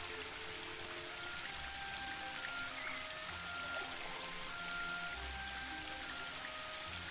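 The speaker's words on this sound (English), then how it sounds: "Oh, here we go, waterfall water." Water from a waterfall in The Book of Unwritten Tales II splashes and patters as a soft, steady rushing wash, with faint tonal game music running beneath.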